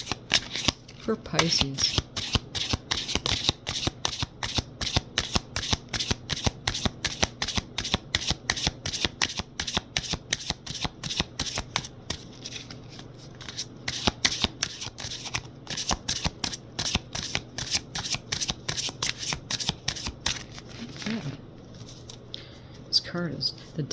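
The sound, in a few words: shuffling a tarot card deck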